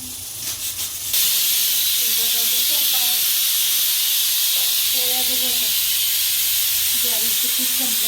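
Two pressure cookers on a home kitchen stove, one cooking rice, let out a loud, steady hiss of steam that runs continuously from early on, with someone talking over it at intervals.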